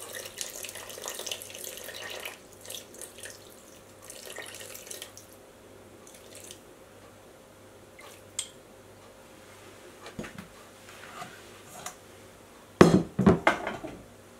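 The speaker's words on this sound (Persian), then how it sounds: "حالا 225 میلی لیتر بهش آب ولرم اضافه میکنم." About 225 ml of lukewarm water is poured into flour for luqaimat dough: a soft, steady trickle that fades, then a few louder clinks and splashes near the end.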